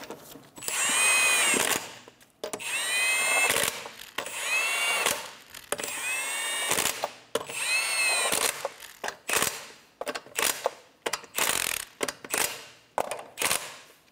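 A power tool drives lug nuts on a 2007-2012 Nissan Altima wheel, with four loud, whining bursts of a second or so each, followed by several shorter rapid bursts. No one speaks.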